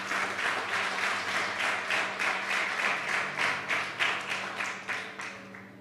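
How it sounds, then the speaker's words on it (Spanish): A church congregation at a Spanish-language sermon claps together in a steady, rhythmic beat, loud, close and regular throughout, with a low sustained hum underneath and no speech. "dele un aplauso a Jesús porque Jesús es hermoso"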